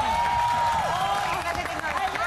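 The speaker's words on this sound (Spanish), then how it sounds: "¡Un aplauso para la profesora!" A studio audience on a television entertainment program claps and cheers in a steady wash, with a host's voice talking over it.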